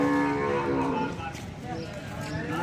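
Water buffaloes low loudly at a crowded livestock market, a long close moo over steady background crowd noise.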